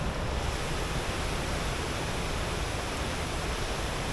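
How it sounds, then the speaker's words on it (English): A rain-swollen river rushes in full flow, a steady, dense roar of white water close by on a wet day along the Cumbria Way near Elterwater, constant and unbroken with no voices. "we are just passing a river and it is in full flow"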